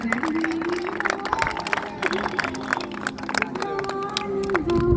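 Students at a school Independence Day programme clap in a rippling, uneven burst of applause while a voice talks over a loudspeaker.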